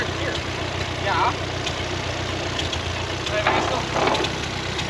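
A 1939 Ford 9N tractor with a weak clutch runs at a steady low idle, its engine drumming and knocking close by, with people talking over it.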